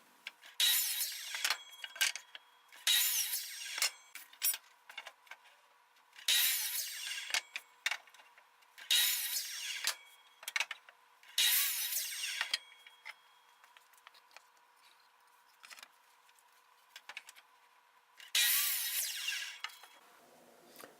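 A saw cuts plywood into eight pieces for a simple workbench, sounding as about six separate loud, bright cutting bursts of a second or so each, spaced apart with quieter gaps and no talking.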